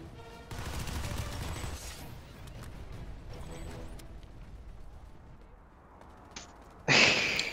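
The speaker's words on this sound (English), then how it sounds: "there's someone shooting me too" Gunfire in a PS2 shooter game: a rapid burst of shots, a quieter stretch, then a sudden sharp blast near the end, with faint game effects between.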